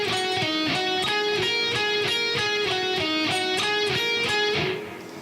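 An electric guitar plays a quick repeating minor pentatonic lick, bright picked notes cycling in a steady rhythm, then fading out at the end.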